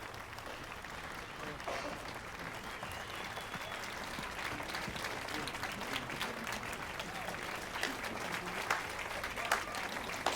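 In a Witcher video game, a tavern crowd claps with leather gloves, a steady, fairly quiet wash of applause lasting the whole stretch, with sharper individual claps surfacing toward the end and a voice talking over it.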